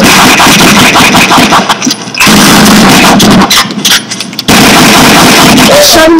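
Cartoon gunfire crackles in loud rapid bursts, stopping briefly twice before starting again, with faint voices underneath.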